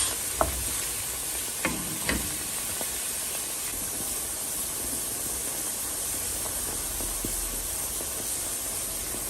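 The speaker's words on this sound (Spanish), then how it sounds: "Y vamos a dejar que el jitomate saque sus jugos." Salted tomato cooks in a pan with a soft, steady sizzle and hiss as it releases its juices. A few sharp clicks of a utensil come early, and no one talks.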